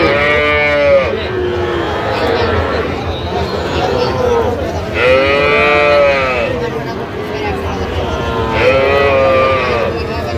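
Cattle, including young bulls, moo at a busy livestock market, with three loud drawn-out calls spaced a few seconds apart over constant crowd chatter and haggling voices.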